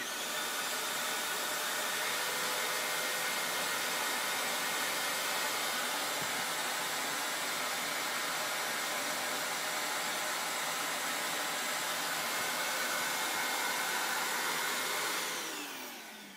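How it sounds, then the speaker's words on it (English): A shop vacuum switched on to run with a ShapeOko 2 CNC router roars steadily and loudly at close range for about fifteen seconds, then spins down at the end. "you should hear the vacuum fire up first"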